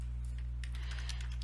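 Soft, irregular keystrokes on a computer keyboard patter quietly over a steady low electrical hum, a short close-by burst of typing with no voices.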